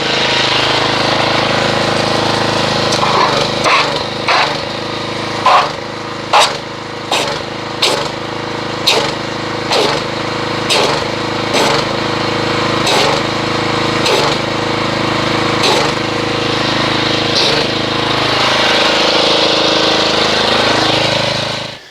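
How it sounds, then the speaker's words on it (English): A pressure washer runs to mix car wash soap in a bucket, giving a loud steady motor drone broken by a run of sharp regular bursts and clatters before settling into continuous running. "let's mix this up with the pressure washer and see what we get"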